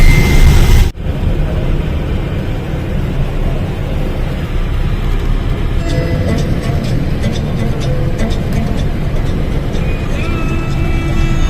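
Car interior on a road journey toward Sundernagar near Bilaspur, Himachal Pradesh: continuous loud engine and road rumble with tyre noise, a brief dip near the start, and scattered rattles and clicks later on.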